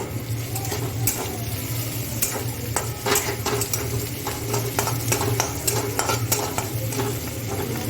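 Chopped onion and garlic stirred in a frying pan while cooking a Bombay duck curry, a spoon scraping in irregular strokes over a continuous close sizzle, with light clinks of metal.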